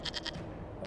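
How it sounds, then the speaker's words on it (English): A goat in the game Dragon Age Inquisition gives a short, quavering bleat in quick pulses, clear and alone, lasting under a second. "we discovered this man attacking the building with a goat"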